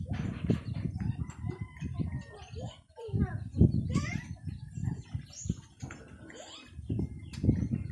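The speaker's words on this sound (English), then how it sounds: "Look at my chicken, guys." A chicken clucks and calls outdoors on a windy day, with bird sounds and crowing mixed under frequent nearby talking and wind noise.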